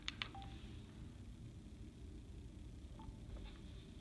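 Short electronic beep tones from a Cardo motorcycle intercom when its intercom button is pressed to join a DMC group, a few faint chirps at the start and again near the end, heard in a quiet room.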